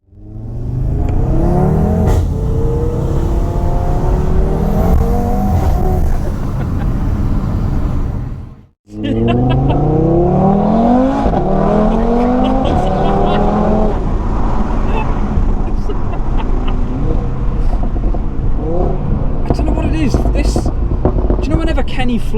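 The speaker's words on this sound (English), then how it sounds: "Kenny floored it in the 8J TTRS" Audi TT RS 8J with an MRC Stage 2 tune accelerating hard at full throttle, the engine note climbing through rising sweeps with a brief cut between gears, loud and continuous, with people talking over it.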